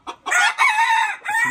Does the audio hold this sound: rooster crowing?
yes